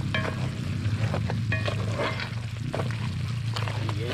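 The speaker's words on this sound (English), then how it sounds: "Yes, I'm cooking curry beef" Curry beef cooks outdoors in a covered clay pot, giving a steady close sizzle and bubbling with scattered crackles and stirring clatter across the whole stretch.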